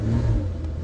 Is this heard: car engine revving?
yes